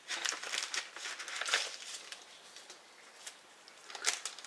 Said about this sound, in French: je vais sortir ce qu'il y a dans l'enveloppe